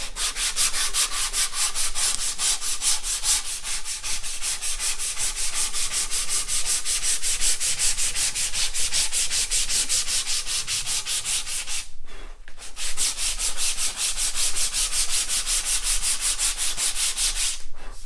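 100-grit sandpaper rasps back and forth by hand over a wooden guitar neck in fast, rhythmic strokes, close and continuous, with one brief pause midway.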